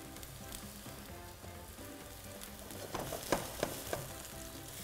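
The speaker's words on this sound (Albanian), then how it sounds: "Do t'i japim një skuqe të lejtë nga të dy anët, pra jo me shumë vaj" Meatballs fry in a pan with only a little oil, giving a soft continuous sizzle with a few louder crackles and stirring clicks near the end, heard close up with no talking.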